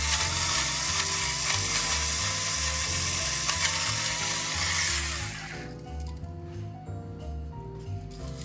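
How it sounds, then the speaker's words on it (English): A grinder turns salt and pepper into a dish with a steady, close mechanical grinding and ratcheting that runs for several seconds, then fades to quieter rattling. "I'm gonna add in some salt and some pepper."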